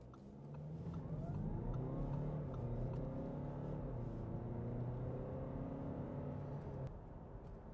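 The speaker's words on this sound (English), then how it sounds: "So what's the A4 Allroad like acceleration?" A 2024 Audi A4 Allroad with a turbo diesel engine accelerates hard, its rising engine note sweeping upward through the gears, loud and continuous from start to finish with no talking.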